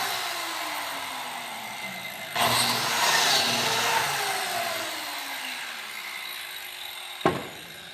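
A biscuit joiner cuts slots into a tiled table top: a motor whine spins up and winds down with a gritty cutting burst in the middle, then a sharp close knock near the end.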